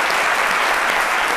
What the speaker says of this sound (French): On va les applaudir comme ils sont tout petits.